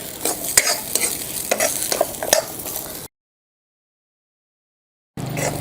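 A pan of coconut, onion, masala and fennel frying for crab curry, stirred with a utensil: steady close sizzle with scraping strokes, cutting to silence for two seconds before the sizzle returns.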